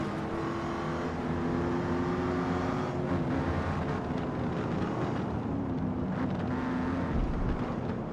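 A Jaguar E-Type engine roars in a Gran Turismo 7 racing game, a loud, sustained drone whose pitch rises and falls with the revs and gear shifts, heard alone without talk.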